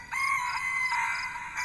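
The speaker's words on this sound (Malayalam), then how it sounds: "ചിന്നുകോഴി." A chicken crows close by, one loud, sustained cock-a-doodle-doo that fills the short moment with no other sound around it.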